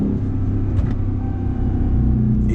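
A RAM TRX Hellcat pickup truck's supercharged engine roaring under hard throttle with its wheels spinning, a deep loud continuous rumble heard close from inside the cab, with no talking over it.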